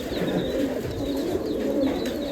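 Giribaj pigeons on a farm, soft low cooing from several birds overlapping continuously, fairly close, with faint higher chirps in the background.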